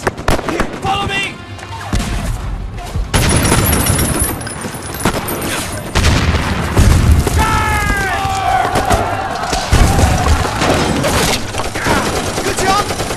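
Grenade blasts and gunfire crash through a Hollywood movie battle scene, loud repeated bursts and booms tumbling over one another, while soldiers shout commands in between.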